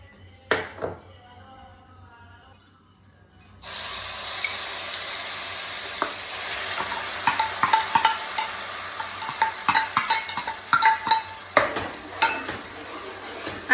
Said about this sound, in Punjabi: ਆਪਾਂ ਇਹਨਾਂ ਪਿਆਜ਼ਾਂ ਨੂੰ ਮੀਡੀਅਮ ਫਲੇਮ ਦੇ ਉੱਪਰ ਭੁੰਨ ਲੈਣਾ ਚੰਗੀ ਤਰ੍ਹਾਂ